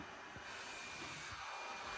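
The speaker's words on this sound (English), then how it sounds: "So that sound you hear is a custom cooling fan that Chris designed from a computer fan and" Steady whirring hiss and broadband rush of a homemade cooling fan built from a computer fan and cordless drill parts, running continuously and fairly close in a kitchen remodel.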